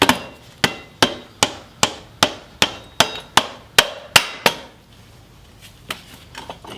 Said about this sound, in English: a little hammer action.